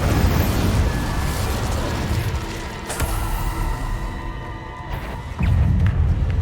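The Incendio fire spell is cast in the Hogwarts Legacy video game, producing a roaring burst of flame and rumbling magical effects, loud and continuous, swelling again with a heavy surge near the end.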